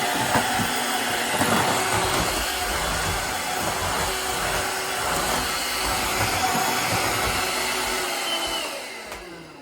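A Shark stick vacuum cleaner runs continuously with a loud, steady whooshing motor roar, close by, tapering slightly at the end, with no talking.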